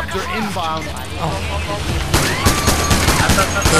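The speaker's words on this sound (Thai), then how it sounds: "โดนยิงโดนยิงโดนยิง" Rapid bursts of gunfire from the video game PAYDAY The Heist, on the Heat Street heist, growing dense and loud in the second half over frantic shouting voices.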